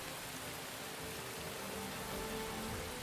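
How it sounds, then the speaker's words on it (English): Steady, dense rain falls in Girls' Frontline, a continuous even hiss of drops with no pauses and no voices. "Her voice is drowned out by the rain."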